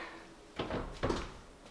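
A kitchen oven door is shut after a tray of oats goes onto the middle rack, giving two muffled, close thuds in quick succession over quiet room tone.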